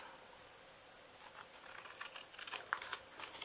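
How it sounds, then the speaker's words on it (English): Scissors cut through paper for a Valentine's Day treat box, a faint series of soft snips and crinkles that grows busier in the second half over a low steady background hiss. "We're going to cut this one and that one off."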